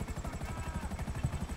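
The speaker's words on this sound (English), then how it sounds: "I just need to find somewhere where I can land the helicopter" Helicopter in GTA Online, its rotor chopping in a fast, steady rhythmic beat throughout a short burst, loud and close with engine whine underneath.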